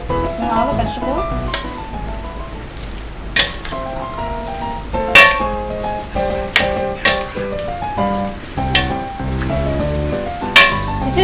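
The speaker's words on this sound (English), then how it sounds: "This is why we call it stir fry, because we're stirring the vegetables." Vegetables being stir-fried for chop suey in a boiling sauce, a steady sizzle with repeated clinks and scrapes of stirring, close and fairly loud, with a person talking over parts of it.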